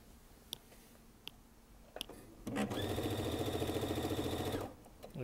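A Baby Lock sewing machine runs at speed in a fast, steady whirring burst of about two seconds, close and loud, after a few faint clicks and before it stops.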